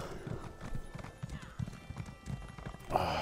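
Horse hooves clip-clop in a steady walking rhythm in the game Elder Scrolls Online, moderately close, with a brief whinny near the end and soft background ambience.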